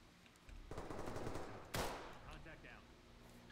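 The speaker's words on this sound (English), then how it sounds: "I put him down. I shot him in the head." Video game gunfire crackles in quick automatic bursts, with one sharp, louder shot standing out midway, heard close over a busy background.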